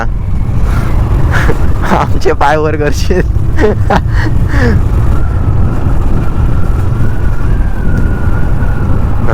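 A motorbike engine hums steadily while riding along a narrow Konkan road, a constant near drone with a horn-like tonal burst partway through, under people talking.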